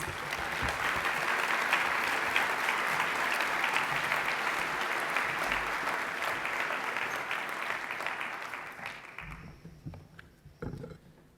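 Audience at an opening ceremony in Washington applauds in a broad, steady wash of clapping that slowly fades over about nine seconds, then quiets.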